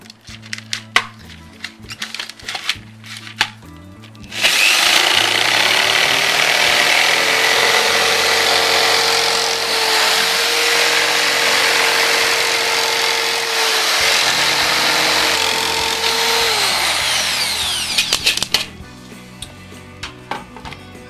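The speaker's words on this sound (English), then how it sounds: "as I started to cut, you'll see that I had to stop because I didn't take the lugs out, so my guide couldn't get through off the jigsaw." A jigsaw cutting through a wooden suitcase shell for a DIY drum kit, a loud steady buzzing roar lasting about fourteen seconds, with scattered knocks and handling clatter before and after.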